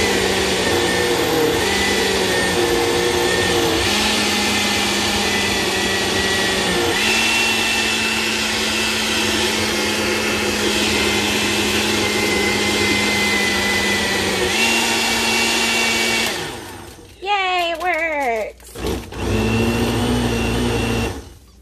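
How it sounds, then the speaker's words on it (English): A blender that may be malfunctioning purees sofrito with a loud, steady motor whine that shifts pitch a few times, then cuts out and restarts in short bursts near the end. "it may be the blender that isn't working properly because I probably need a new one"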